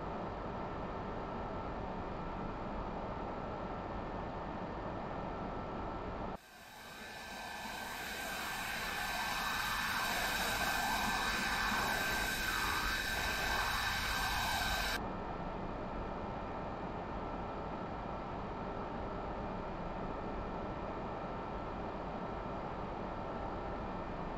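A Mirage 2000C jet in a flight simulator game rolls along the taxiway, a steady broadband engine whine and rush that swells in for several seconds between quieter stretches of cockpit ambience, with no talking.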